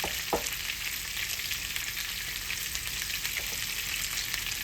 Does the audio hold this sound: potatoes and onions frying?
yes